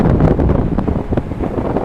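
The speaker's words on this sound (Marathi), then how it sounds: "एवढा वारा सुटलेला आहे" Strong wind buffeting the microphone beside a rough, stormy sea at Shrivardhan in heavy rain, a loud continuous rushing roar with gusty thumps and no voices.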